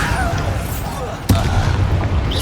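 A Bombarda spell explodes in Hogwarts Legacy with a single sharp boom midway, set against ongoing game ambience and low rumble.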